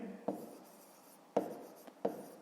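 A pen scratches on paper during a fifth-grade maths exercise, faint soft strokes with three sharper taps of the pen, quiet and close, without speech.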